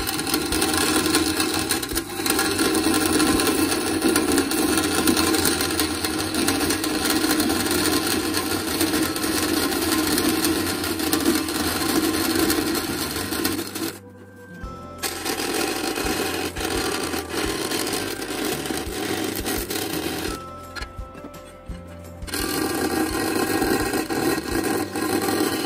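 Continuous harsh rasping of a handsaw grinding through CPM-MagnaCut knife steel, loud and close, with two brief pauses before the cutting resumes.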